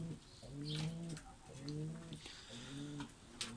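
A pigeon coos repeatedly on a rooftop in a soft, steady rhythm, low and rounded, with faint outdoor background noise around it.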